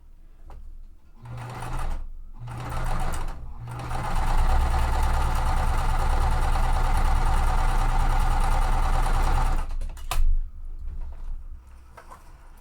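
Close by, a sewing machine runs a long steady burst of stitching through quilt pieces, preceded by a couple of short starts and ending with a brief stop-start at the finish.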